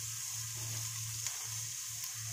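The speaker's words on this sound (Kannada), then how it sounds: "ಈಗ ಒಂದು ಚಿಕ್ಕದಾಗಿ 4 ಈರುಳ್ಳಿ ಹಾಕ್ಕೊಳ್ಳೋಣ" Chopped onions frying in hot oil with a tempering in a home kitchen pan, giving a steady, even sizzle that runs unbroken and fairly close, with no voices over it.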